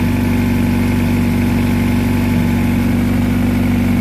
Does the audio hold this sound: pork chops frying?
no